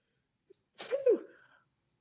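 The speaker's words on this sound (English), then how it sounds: "Cute little sneeze." A single short human sneeze, sharp and close, preceded by a tiny intake sound and trailing off quickly into silence.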